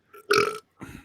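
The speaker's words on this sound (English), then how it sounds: "Burp." A person lets out a loud, close burp after drinking a Dr Pepper Cherry Zero soda, a short voiced belch followed by a softer breathy tail.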